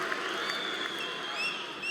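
Crowd at a FAME 5 free fight event applauding and cheering after a bout, a dense, steady wash of clapping and voices filling the hall for two seconds.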